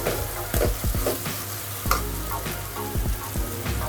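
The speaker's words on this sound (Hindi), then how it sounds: "ये डाल के हमें और भूनना है अच्छे से मसाला।" Onion and red chilli paste masala fries in a pan for chole, a steady close sizzle broken by repeated scraping strokes of a spoon stirring the mixture, with no talking.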